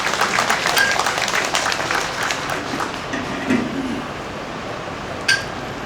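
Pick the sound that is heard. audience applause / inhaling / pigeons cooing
audience applause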